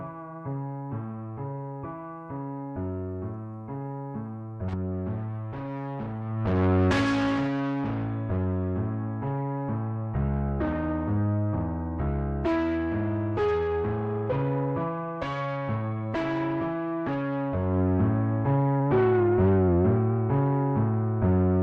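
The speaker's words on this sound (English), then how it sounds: "We've got a tape flange happening." A melodic electric guitar line plays steadily with a swirling, sweeping tape flange effect coloring the notes throughout.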